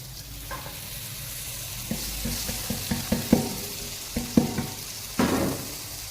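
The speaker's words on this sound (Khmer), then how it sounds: "យើងធ្វើការឆាអង្ករ" Raw rice and garlic sizzle and are stirred in a hot pan for chicken rice porridge, a steady close frying hiss broken by repeated scraping strokes of the spatula, with no talking.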